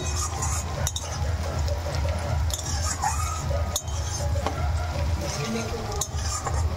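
Mutton pieces are stirred into a pan of fried onions for a mutton curry with potatoes, giving a steady sizzle with spatula scrapes and metallic clinks throughout.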